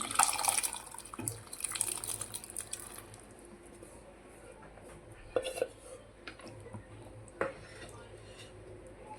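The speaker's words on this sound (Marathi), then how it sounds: "आता मी यामध्ये छोले ॲड करते" Chickpeas are tipped into spiced masala in a cooking pan with a wet, splashing pour, followed by quieter scraping and clinks of a spoon against the pan.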